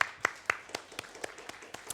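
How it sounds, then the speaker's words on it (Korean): Members of a middle school church group clap in a steady, evenly spaced rhythm, about four claps per second, fairly close and clear with little else around. "하나님께 영광의 박수 올려드리겠습니다"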